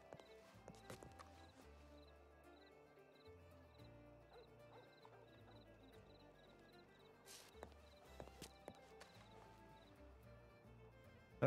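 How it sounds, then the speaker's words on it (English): Horse hooves clip-clopping with occasional whinnies in the Western roleplay game WildRP, faint and mixed with a low game soundtrack and scattered other effects. "Somebody just got smashed by a horse."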